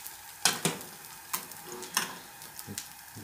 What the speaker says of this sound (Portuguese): Aí eu vou deixar ele dar uma fritadinha embaixo para ficar douradinho.